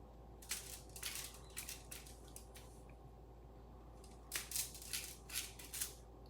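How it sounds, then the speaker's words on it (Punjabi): A coconut-cashew roll sweet is cut into small pieces, heard as short, close crunching cuts in two clusters with pauses between, quiet over a low steady room hum. "ਹੁਣ ਮੈਂ ਜੀ ਇਹਨੂੰ ਪੀਸ ਕੱਟ ਲਵਾਂਗੀ"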